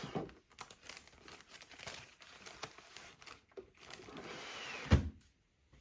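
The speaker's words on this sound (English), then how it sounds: "I think I'll even put this paper bag in there for inspiration." A paper bag crinkles and rustles in a craft room as it is stowed, a run of close, irregular crackles ending in a soft thump, then silence.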